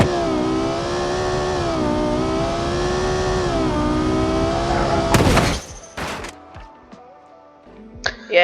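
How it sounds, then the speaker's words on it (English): A car in a video game accelerates toward a wall for a crash test, a loud, steady engine roar building for several seconds before cutting off in a sharp crash of impacts and scattered debris. "Let's just gas it into that wall"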